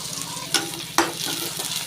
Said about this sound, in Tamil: நல்லா வதக்கிடலாம் ஃப்ரெண்ட்ஸ். நல்லா வதங்கட்டும்